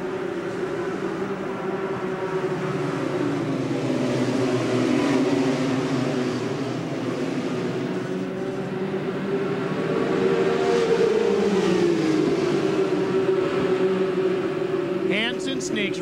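Race cars drone steadily at USA International Speedway in Lakeland, Florida, during a 1996 ASA AC-Delco Challenge race after the green flag, their engine pitch rising and falling as they pass, with voices talking over the noise.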